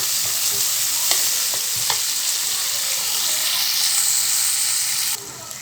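Onions sauté in oil in a pan with a loud, even hiss and sizzle, a few sharp spatula scrapes early on, then the frying sound continues steadily.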